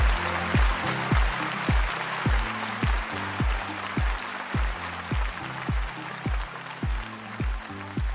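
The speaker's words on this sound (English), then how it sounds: "Who doesn't love canned laughter and applause?" Canned applause plays at a live conference session, a soft wash of recorded clapping under a steady series of low, evenly spaced descending tones.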